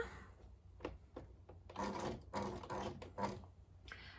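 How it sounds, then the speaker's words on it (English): A sewing machine back-stitches a seam on a half-square-triangle quilt block, faint short bursts of mechanical rattling alternating with quiet pauses and soft taps, close by and without talking. "back stitching because it needs to be strong"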